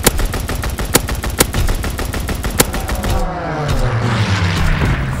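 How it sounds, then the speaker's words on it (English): Fighter plane strafing with machine guns in Call of Duty: WWII, a loud rapid burst of gunfire with sharp cracks, then a roaring engine pass and rumbling impacts fading out. "Fighter pilot inbound, strafing the target."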